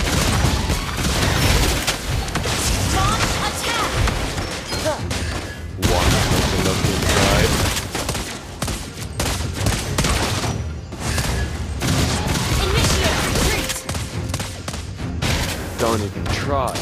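Granger's gunfire in the mobile game Mobile Legends: rapid bursts of shots and booming impacts over dense battle effects and music, loud and nearly continuous, with game announcer voice lines mixed in.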